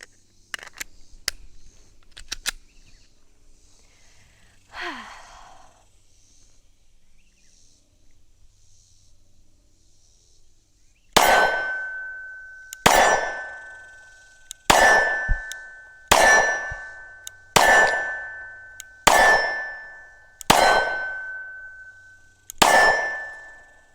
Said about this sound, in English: Let's get into more shooting.